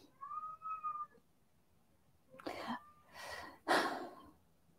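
A cat calls its mother to play, first with a drawn-out tonal meow and then with three breathy, rasping cries after a short pause. All of it is close and moderately loud, with no talk.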